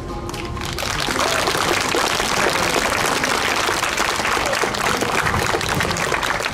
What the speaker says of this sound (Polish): Proszę Państwa, i brawa.